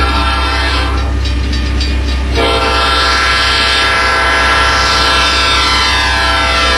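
A train roars past close by with a loud, sustained horn blast over heavy rumbling and rattling wheels.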